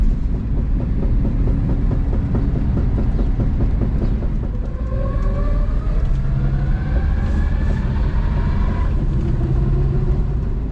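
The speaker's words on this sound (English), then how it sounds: "clunk, clunk with the wheel speed. Speeds up, slows down with the rotation of the wheel." Old Ram truck driving along with a rhythmic clunking from a wheel that keeps pace with wheel speed, heard from inside the cab as a steady repeating knock over a constant road and engine rumble.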